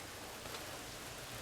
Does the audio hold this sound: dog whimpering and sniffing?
no